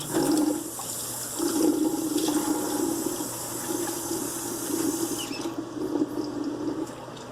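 Running tap water splashes steadily into a sink during rinsing, a close, continuous hiss and patter that dips briefly and shifts in tone near the end.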